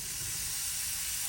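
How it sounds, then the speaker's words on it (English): A burger patty sizzles in a pan, giving a steady, bright frying hiss that holds evenly through the brief moment with no pauses. "Beautiful sizzle."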